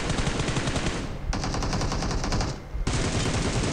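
Rapid bursts of automatic gunfire spraying bullets in the mobile shooter BGMI / PUBG Mobile, three loud sustained volleys separated by brief gaps, close and dominant with no talk.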